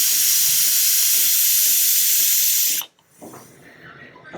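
A loud, steady hiss of steam escaping a pressure cooker cooking vegetable pulao, then it cuts off sharply, leaving quiet kitchen noises.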